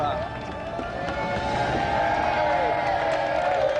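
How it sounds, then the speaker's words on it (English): A crowd applauds and cheers steadily, a broad wash of clapping with occasional whoops, continuous throughout. "Let's have another round of applause for our special guest, Ian Kelsey, Camilla Power."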